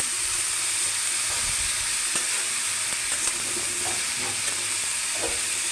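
Sweet pumpkin fries in a pan, giving a constant bright hiss and sizzle with scattered scraping stirs, close up and without talk.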